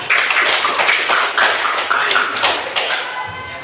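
An audience gives a round of applause at a school agricultural program demonstration, many hands clapping in a dense, continuous patter that holds steady before tapering off.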